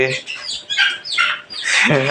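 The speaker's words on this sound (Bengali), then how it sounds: "এই সাদা মুরগি তো বড় এটা এখন একটা ডিম পাড়া মুরগি" A white laying hen clucks in a poultry flock, loud bursty calls repeating through the moment, close by with no voices.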